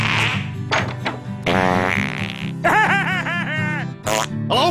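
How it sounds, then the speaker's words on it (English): A rapid string of exaggerated, comical cartoon fart noises from Family Guy, some long and buzzing, some short and sputtering, loud and close, with giggly squeaks mixed in. "I like long farts, short farts, wet farts, your farts."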